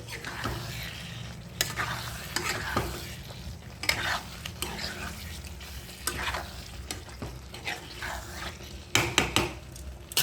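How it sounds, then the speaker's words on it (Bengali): Eggs are stir-fried with potatoes in a pan for egg curry: a close, continuous sizzle broken by repeated scraping stirs of a spoon against the pan. "এবার ডিমগুলো দিয়ে দেব, দিয়ে ভালো করে কষবো।"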